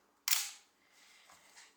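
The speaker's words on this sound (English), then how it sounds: "Fire the shutter." A Pentax K2 film camera shutter fires once, a sharp crisp snap followed by faint mechanical settling clicks, close and alone in a quiet room.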